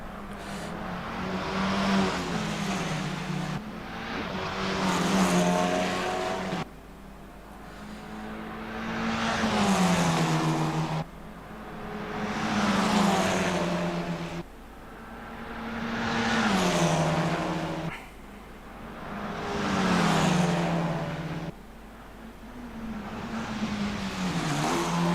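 Race cars at a Scottish GP Test Cup race, engines roaring past in repeated swelling waves, each loud pass rising and fading as cars run side by side into a braking zone.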